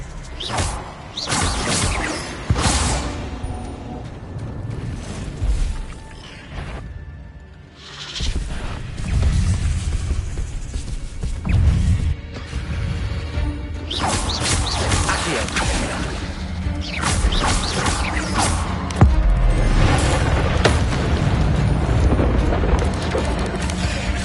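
Spell-casting effects from Hogwarts Legacy on hard difficulty: repeated magical bursts, crashes and whooshing blasts in an ongoing fight, loud and dense throughout, with a voice shouting spell names over them.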